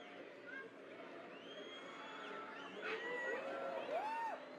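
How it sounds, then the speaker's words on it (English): Crowd outdoors during a total solar eclipse, a distant murmur of voices rising with scattered whoops and cheers, faint and spread out, with nearby talk. "Crowd's getting excited."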